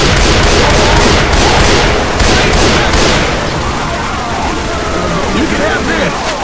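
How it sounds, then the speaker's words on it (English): Loud, continuous gunfire and heavy booms fill a zombie fight in The Passing campaign of Left 4 Dead 2, with the shooting easing slightly toward the end and voices talking over it. "Don't stop shooting!"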